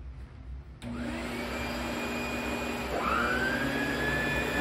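A ProTeam ProForce 1200XP upright vacuum cleaner switches on with a sudden roar and runs steadily, its motor whine rising in pitch partway through.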